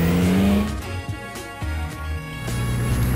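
A Srikandi M18 car accelerates with a steady, loud engine drone and rising rev tones, the sound continuous and close throughout.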